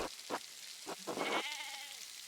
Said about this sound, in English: I think I found Johan's last lost sheep